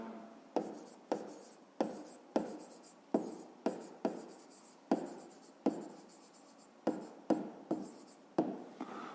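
Pen writing by hand on paper during a fifth-grade maths exercise, a steady series of short scratchy strokes with brief lifts between them, close and quiet, no voices.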